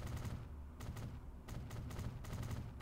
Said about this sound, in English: Oh, somebody banging their front door by the sounds of it.